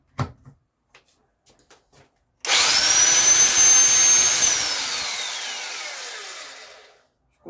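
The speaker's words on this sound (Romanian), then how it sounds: "Și băgăm o bormașină de asta solidă, nu știu cât are, 2 kW." A solid 2 kW electric drill whirs up loudly and close for several seconds, then winds down and stops, after a few faint knocks.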